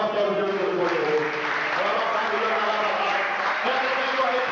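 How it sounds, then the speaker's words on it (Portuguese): A church congregation claps in a dense, continuous burst of applause, with voices mixed in throughout. "Vamos dar mais uma salva de palmas para o Deus Todo-Poderoso"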